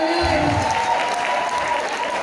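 An audience at a church gathering claps for an evangelist, a dense burst of applause that rises loud at once and holds steady for a couple of seconds.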